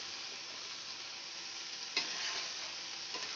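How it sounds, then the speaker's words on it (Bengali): Methi chicken with yogurt sautés quietly on a low flame, giving a faint, steady sizzle with a couple of soft stirring scrapes and no talking. "ভালো করে লো ফ্লেমে এবার কষাতে থাকবো"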